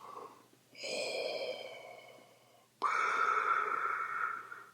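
A voice imitates Darth Vader's synthesized breathing: two long, rasping breaths close to the microphone, one drawn in and one pushed out, with a brief quiet gap between.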